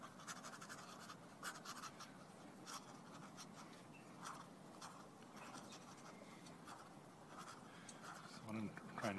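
A pen gliding and scratching over paper while sketching flowers, faint continuous scribbling strokes with short pauses, mostly alone with a brief bump of movement at the end.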